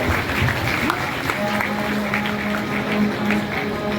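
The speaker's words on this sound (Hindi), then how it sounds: "जोरदार तालियों से महाराज जी का स्वागत करेंगे सभी लोग।" A crowd at a gathering at an ashram claps together in steady, sustained applause, loud and continuous, with voices mixed in.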